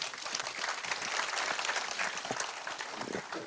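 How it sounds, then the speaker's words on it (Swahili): An audience at a community security forum with Cabinet Secretary Murkomen in Kiambu breaks into dense, sustained applause, many hands clapping at once at moderate loudness for several seconds. "Pigia makofi"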